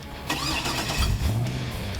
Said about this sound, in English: That car started, you definitely knew which car was coming to set.